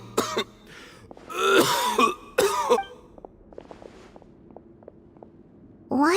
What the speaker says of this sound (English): Why is he coughing so...